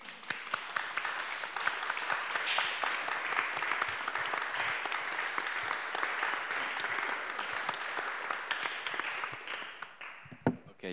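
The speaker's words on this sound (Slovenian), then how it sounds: "da je ta aplavz zdaj pravzaprav povedal sam zase dovolj" Sustained audience applause at a panel discussion, a dense wash of many hands clapping evenly for about ten seconds before thinning out at the end.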